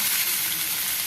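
Tomatoes and green chilies sizzle steadily in hot oil in a pan, a close, even hiss lasting about a second with no voices.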